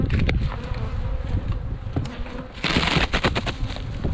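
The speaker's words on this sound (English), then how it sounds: "Just full of bees" Honey bees swarm around hives being graded and fed pollen substitute in a bee yard, a loud, dense, continuous buzzing close by with bursts of sharper activity and faint clicks.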